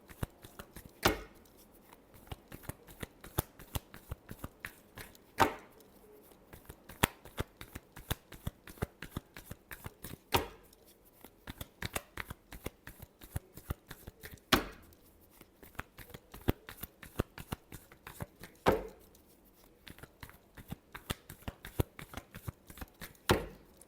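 Tarot cards are shuffled by hand close up in a steady stream of crisp flicks and riffles. Louder slaps and taps come every few seconds, and there is no speech.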